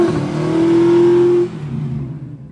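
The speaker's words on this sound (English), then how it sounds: "Do a burnout." A tuned Ford C-Max 2.0 show truck revs hard during a burnout, a loud close engine roar held for about a second and a half before dropping to a lower rumble.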